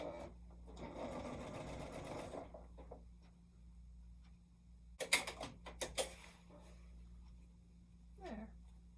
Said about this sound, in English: I like the sound of the sewing machine.